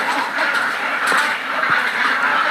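Ducks on a duck farm make a dense, continuous din of quacking and honking, with no single bird standing out from the steady crowd noise.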